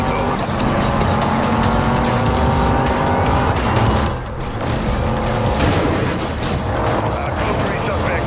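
Lamborghini and Ferrari supercars race in Need For Speed Rivals, engines roaring loud and continuous with tire squeals, a brief dip near the middle, and a voice talking over the game sound.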